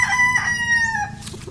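A gray white Kelso pullet chicken crows in a single strained call lasting about a second, loud and close, followed by brief quiet clucks.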